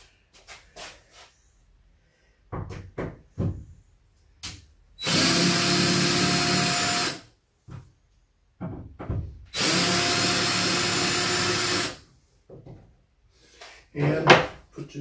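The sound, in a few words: power tool removing screws from a splice plate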